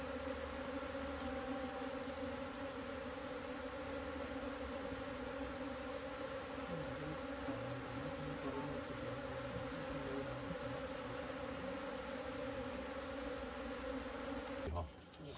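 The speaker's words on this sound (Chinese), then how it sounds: "你看现在蜜蜂哈、开始进去了、是稳定的" Wild honeybees hum steadily as a swarm moves into a hive box during a relocation in Shei-Pa National Park; a constant, close, droning buzz that holds evenly for the whole stretch.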